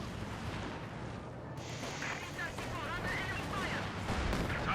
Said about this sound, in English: Grenadiers under fire there from the T-3045, almost getting wiped out there by the machine guns and the main gun